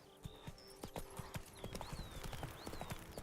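Horse galloping in The Witcher 3, a steady run of clip-clop hoof beats with a brief whinny, set against outdoor ambience and faint bird calls.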